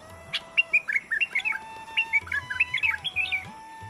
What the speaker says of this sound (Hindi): बुलबुल एक छोटा सुंदर पक्षी है जिसकी आवाज बहुत मधुर होती है